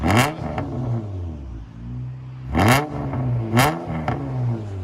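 A 2000 Honda Accord V6 coupe on straight-pipe exhaust blips its throttle in several sharp, raspy revs that fall back to a low, rumbling idle, loud and close.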